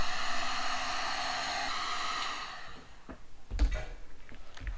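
Steady airy blowing of a heat gun shrinking tubing onto a race car wiring harness, a broad hiss that runs for about two seconds and then cuts off, leaving a few soft clicks and handling noises.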